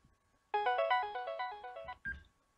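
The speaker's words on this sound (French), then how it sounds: "Ensuite, je vais prendre un autre appel." Phone ringtone of an incoming call, a bright melodic electronic tone pattern of rising and falling notes lasting about a second and a half, fairly clear and alone, followed by a short click.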